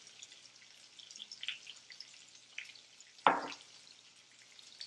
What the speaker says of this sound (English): we're going to add the last of the butter